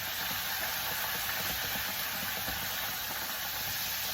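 Steady sizzling hiss of shrimp frying in hot oil, continuous and fairly close, with a low rumbling underneath.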